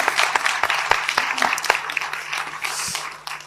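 Audience applause welcoming a filmmaker at a festival screening, many hands clapping with distinct individual claps standing out, fairly close and gradually thinning toward the end.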